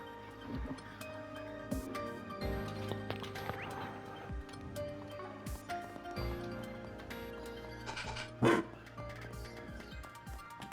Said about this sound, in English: This robo-mud acts like a real-ass dog.